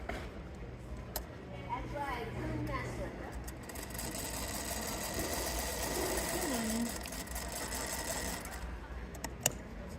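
Quiet sewing machine stitching pieced fabric together along a seam, a steady soft mechanical hum running for the whole stretch while a person speaks faintly over it.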